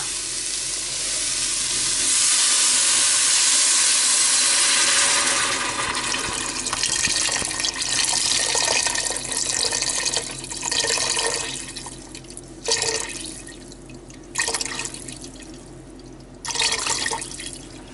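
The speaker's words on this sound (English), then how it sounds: "And now I'm going to add in my water." A long, steady rush of water pours into a soup pot over hot browned chorizo and kale, hissing and splashing, then breaks into a few shorter pours near the end.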